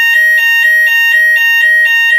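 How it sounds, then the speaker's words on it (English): A fire alarm sounds loud and close, ringing in a fast, regular electronic pulse of about four to five tones per second that repeats steadily throughout with no voices. "And that is a fire alarm."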